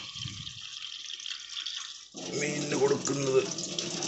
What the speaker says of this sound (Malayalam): ഫിൽറ്ററിനകത്തെ വെള്ളമാണ് എടുക്കുന്നത്